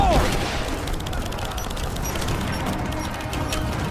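Gunfire rattles in bursts with a grenade blast in Rise of the Tomb Raider, sharp repeated shots layered over a dense, loud rumble that fills the whole stretch.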